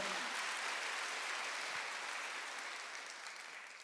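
A church congregation at a Sunday worship service applauding, a steady dense wash of clapping from many hands that fades slightly toward the end, with no talk over it.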